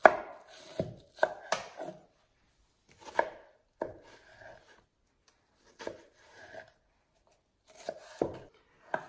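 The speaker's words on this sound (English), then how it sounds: "take my circles and stack them up a bit. And then just make some cuts" A knife chops through stacked vegetable rounds on a cutting board, giving short clusters of crisp thuds separated by pauses, close and quiet in an otherwise silent kitchen.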